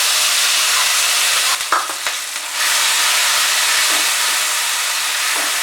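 Spice paste frying in a pan over a very low flame, a steady broadband sizzle and hiss that runs throughout, with one brief dip where stirring or a small disturbance interrupts it.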